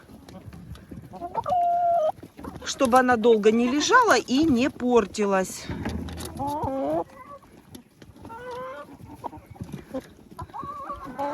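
Farm chickens cluck and cackle close by through most of the clip, while someone talks over them.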